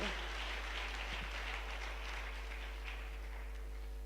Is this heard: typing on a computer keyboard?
no